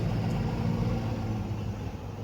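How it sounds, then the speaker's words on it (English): A noisy diesel truck rumbles past close by, its low engine drone steady and loud throughout with a broad roar of road noise, no voices over it. "Here's a noisy diesel truck."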